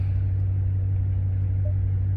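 Dodge Charger RT V8 idles steadily with a low, even rumble, close and constant, no voices over it.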